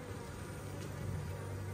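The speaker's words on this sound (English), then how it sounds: "We do have a little bit of fanning going on where the bees will land and realize this is their new home" Honeybees hum and fan their wings at the entrance of a newly made colony, a close, steady buzz that holds for under two seconds with no voices.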